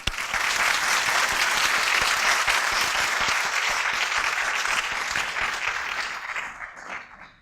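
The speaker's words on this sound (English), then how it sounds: "And I think they deserve an applause." A crowd applauds at a graduation ceremony, sustained loud clapping from many hands that holds steady for several seconds, then thins and fades out toward the end.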